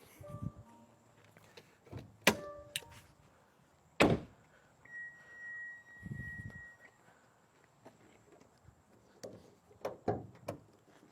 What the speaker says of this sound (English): Let's go ahead and open up the hood to this thing